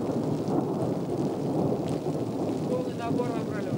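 A thunderstorm in the Dombay mountains, with rain hissing steadily on surfaces and low thunder rumbling throughout, dense and continuous at close range.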